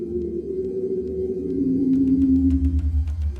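A low, murky synthesized monster sound built from whale recordings, the Scar Thatch creature, drones and moans with a deep rumbling swell and faint crackling clicks toward the end.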